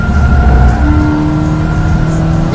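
A Subaru BRZ race car on track accelerates with a loud, steady engine whine heard from inside, pitch rising slightly over a couple of seconds.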